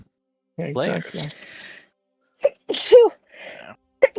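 A sneeze during a tabletop role-playing game session, a brief sharp burst in the middle of the clip, with people talking before and after it.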